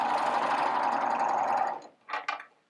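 A sewing machine stitches along a fabric edge with a steady, close, continuous whir for almost two seconds, then stops, followed by two brief rustling bursts.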